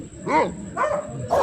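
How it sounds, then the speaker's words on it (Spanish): A dog barks at night somewhere behind, three short yelping barks spaced across a moment, moderately distant and fairly clear against a quiet background. "Por ahí está ladrando un perro."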